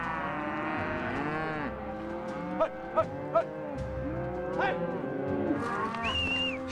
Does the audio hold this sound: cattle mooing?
yes